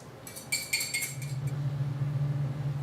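A whisk stirs a simmering Alfredo sauce with garlic in a pot. Quick metallic clinks and scrapes come in a short burst, close up, and then give way to a low, steady simmering hum.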